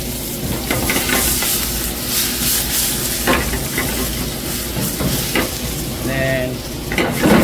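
Chopped garlic and onion sizzle loudly in hot oil in a pan for dal tadka, a steady close frying hiss with a few stirring scrapes throughout.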